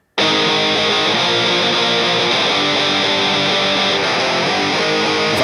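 A heavily distorted electric guitar sustains a loud chord with boosted EQ, producing a dense, saturated tone topped by a thin high-pitched whine, which stays steady throughout after starting abruptly.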